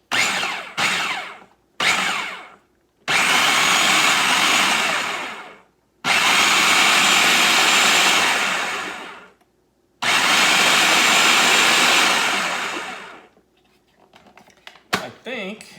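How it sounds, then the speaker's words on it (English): A food processor pulses salsa verde in several loud bursts of whirring, each lasting a second to a few seconds, separated by brief pauses, with a final short burst near the end. "and then I'm going to blend this. Now, I'm using a food processor."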